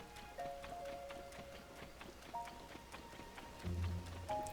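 Rain in Tears of the Kingdom falls as a steady soft patter of drops, with faint game tones and a low thump near the end, quiet and continuous, with no voices.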